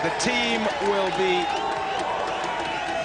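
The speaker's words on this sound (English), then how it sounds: "The crowd will be very happy about that" Large cricket stadium crowd roaring and cheering as Sachin Tendulkar reaches his fifty in a one-day international against South Africa, a steady dense wash of noise under a commentator's voice.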